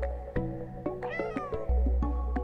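A cat meows in the video game Stray, giving a few short, close, clear meows in quick succession over soft ambient game sounds with light tapping.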